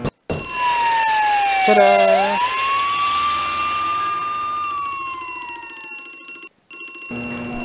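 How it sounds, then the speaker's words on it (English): A loud electronic alarm in the Harvester video game rings in a sustained tone that dips and rises like a siren, then cuts out near the end, with a voice speaking briefly at the start. "in order to do that, we gotta do the fire alarm. A glass protection fire alarm."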